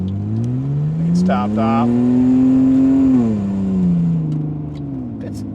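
A 1954 International farm truck engine drones and rises steadily while rolling over gravel, loud and close from inside the cab, with a short spoken remark partway through.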